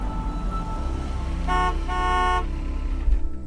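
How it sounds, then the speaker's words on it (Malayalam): A car horn honks twice close by, a short toot then a longer blast, over low traffic rumble. "കറക്റ്റ് ആയിട്ട് വന്ന് ഹോൺ അടിക്കണേ"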